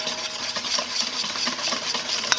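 A whisk beats fat into an emulsion, giving quick, light, rhythmic clicking and scraping against a bowl that stays close and steady, with no talk.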